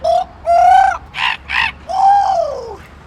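A man imitates bird calls with his voice, giving a series of crow-like caws and whistly cries, some drawn out and some short and clipped, loud and close, with no other sound around them.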